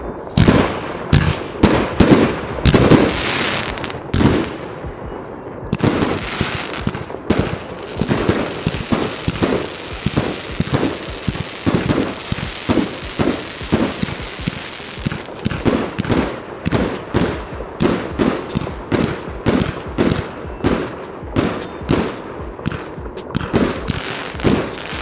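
Fireworks at a channel anniversary celebration burst in rapid, loud, crackling volleys, dense runs of sharp bangs with a short lull near the start, heard up close.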